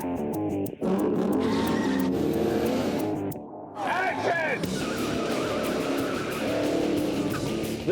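Vin Diesel's 1972 Torino muscle car squeals its tires in several sharp, rising screeches over a loud engine roar, with brief gaps between bursts and voices in the background.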